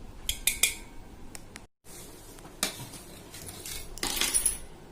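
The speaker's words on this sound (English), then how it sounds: "finally chopping the cheese for our delicious pizza base" Sharp knife taps and clicks against a board while chopping cheese for pizza, a quick cluster of cuts then scattered strikes, close and fairly quiet with no voices.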